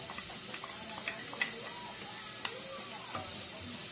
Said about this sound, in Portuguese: E eu deixo ele refogar.